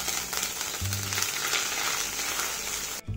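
Green chilli hits hot ghee with cumin and grated ginger, a bright close crackling sizzle that runs loud and continuous before cutting off abruptly near the end.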